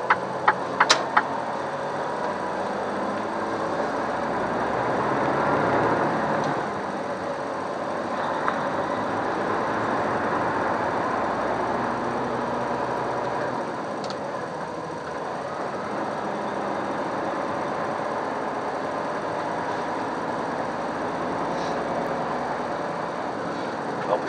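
Steady car engine running while driving on a German road, a continuous mid-level drone with road noise that holds even throughout, no talking.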